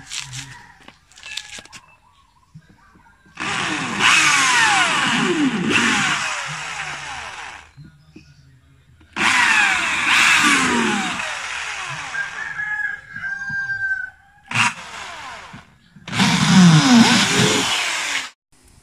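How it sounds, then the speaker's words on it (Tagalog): A power drill whines in three long bursts separated by pauses while boring screw holes in a car's rear bumper, loud and close, with faint rooster crowing in the background. "mabubutas na tayo gamit ang barena"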